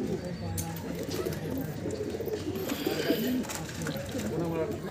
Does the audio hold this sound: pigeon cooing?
yes